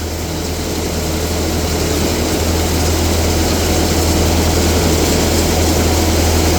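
A tractor drives a silage blower while a feed wagon's augers turn, making a loud, steady, low mechanical drone with a broad rushing hiss that holds unchanged throughout.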